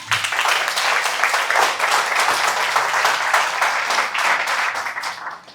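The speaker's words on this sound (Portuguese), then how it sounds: "Pode aplaudir isso." A church audience breaks into loud, dense applause that holds steady for several seconds and then begins to taper off near the end.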